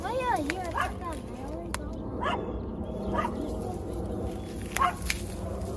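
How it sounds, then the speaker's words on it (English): A dog in a backyard garden in Alberta gives several whiny barks and yips spread across the stretch, moderately close, with people talking in the background. "You are just barking us."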